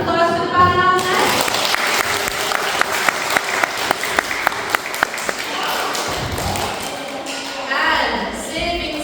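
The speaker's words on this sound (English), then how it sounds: "a round of applause for the banana there" Children and staff at a school celebration assembly clap together in a loud, lively round of applause with some sharper individual claps standing out, after a voice speaks at the start and before chatter at the end.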